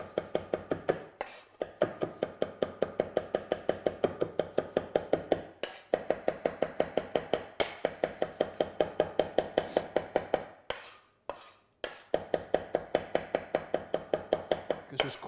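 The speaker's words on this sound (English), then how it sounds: "Just keep chopping that down." A knife chops rosemary on a cutting board in rapid, even strokes, a close and crisp tapping rhythm with a few short pauses between bursts.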